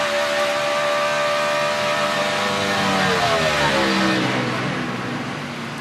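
A NASCAR stock car's V8 roars past on a qualifying lap, loud and close, the engine pitch sweeping downward as it passes by and fades slightly toward the end, with no voices over it.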